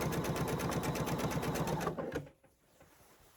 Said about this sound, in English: let the machine do what it's supposed to do and just pull that fabric on through